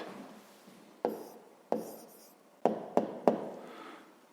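A pen writes down a fifth-grade maths answer on paper, heard as quiet close scratching strokes broken by several sharp taps as the pen meets the page, with no talking.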